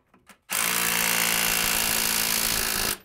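An impact gun runs in one sustained burst of about two and a half seconds, tightening the wheel bearing bolts on a Mk1 Volkswagen during a front wheel bearing replacement. It comes loud and close and is preceded by a few faint knocks.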